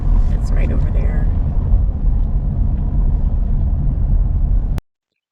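A car drives along Sunset Ridge Road in Lake Pleasant Regional Park, Arizona, giving a steady, close, low rumble of engine and tires that holds evenly and then cuts off abruptly near the end.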